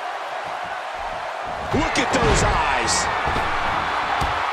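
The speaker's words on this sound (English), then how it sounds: "You can hear this crowd." In the WWE 2K17 game, an arena crowd roars as a steady, wide wash of noise that swells halfway through, with excited commentary over it and a few sharp thuds from the ring.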